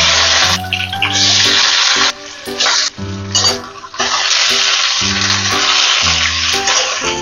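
Sliced onion drops into hot oil on a gas flame for Bengali peyaj posto, giving a steady broadband sizzle that runs under loud background music throughout.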